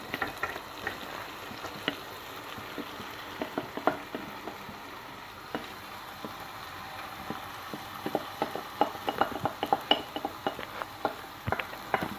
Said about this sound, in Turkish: Şimdi 3 su bardağı e, bulgurumuzu ilave edeceğiz. Evet bulgurumuzu ilave ediyoruz şu an.